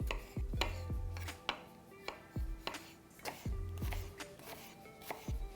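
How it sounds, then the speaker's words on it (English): A knife chops onion and fennel tops on a cutting board in a series of crisp, close knocks at an irregular, fairly quick pace, each followed by a short ring from the board, with no voices. "Give these just a light chop."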